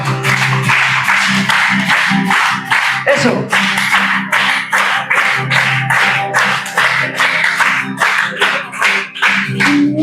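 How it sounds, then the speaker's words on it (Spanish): A church congregation at a Spanish worship gathering claps in steady rhythmic time along with sung music, the sharp, even claps running continuously over the singing and instruments. "Si nos podéis ayudar con las palmas"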